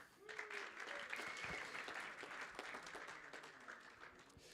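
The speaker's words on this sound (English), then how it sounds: "a big applause to our beautiful GLORY girls" Audience applause for the ring girls at a GLORY 90 kickboxing weigh-in, a steady dense wash of clapping with scattered whoops, sustained throughout.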